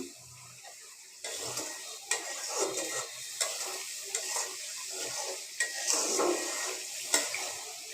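Spice paste being fried for a prawn and taro-stolon curry: a loud, continuous sizzle in the pan with repeated spoon scrapes and stirring strokes, close up and with no talk.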